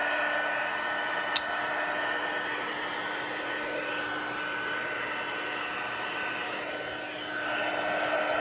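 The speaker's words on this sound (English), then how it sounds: "I'm bringing the heat to the embossing powder and the Versamark ink, and it's heating up." A craft heat tool blows a steady, breathy whoosh like a hair dryer while melting embossing powder over Versamark ink on a Christmas card, continuous at moderate level with a brief click near the start.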